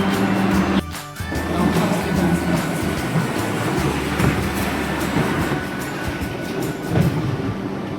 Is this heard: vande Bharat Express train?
yes